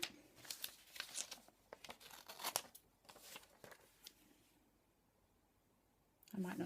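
Scissors cutting a picture out of a glossy magazine page, with a run of crisp snips and paper rustles, close and fairly quiet, before a stretch of near silence.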